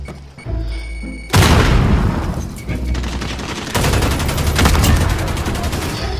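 Heavy gunfire from a Modern Warfare custom match, in which players carry only riot shields. It hits as a loud, sustained fusillade of rapid shots and booms, dense and continuous after a sudden onset, with faint voices underneath.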